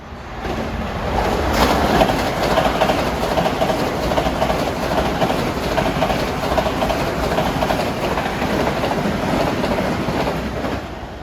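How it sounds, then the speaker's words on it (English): A Long Island Rail Road commuter train, number 1019 from Ronkonkoma to Penn Station, rolls past at Mineola on a triple-track line during morning rush hour, a loud steady roar with clickety-clack of wheels over the full length, no talk. "That was train 1019 out of Ronkonkoma to Penn Station."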